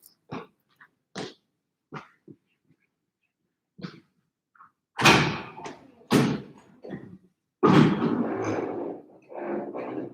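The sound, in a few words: door being opened to let someone in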